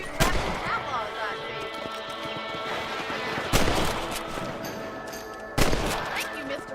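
Gunshots from rabbit hunting in the video game Red Dead Redemption ring out as three sharp, loud blasts spaced a couple of seconds apart over a continuous background of game sound.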